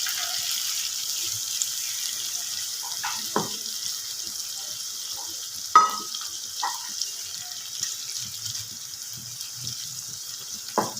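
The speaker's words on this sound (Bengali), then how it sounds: "আমি ওই মশলার বাটিটা ধুয়েই অল্প একটু জল এতে দিয়ে দেব" Water goes into a pan of potato curry and hits it with a steady sizzle, joined by light scraping and clinks against the pan.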